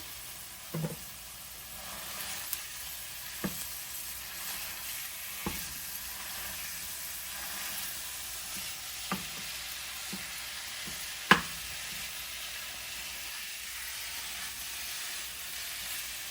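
Minced meat frying in a pan with softened onion gives a soft, steady sizzle throughout, broken by a few sharp knocks and scrapes of a utensil.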